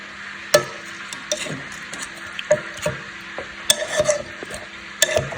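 A utensil stirs a fish head stew in a pot, giving a run of sharp metallic clinks and scrapes at an uneven pace over a low bubbling simmer.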